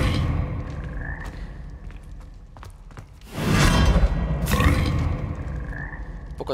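Frogs in Hogwarts Legacy croak repeatedly up close, deep grunting calls rising in a loud burst midway over a busy game soundscape with thuds and swishes.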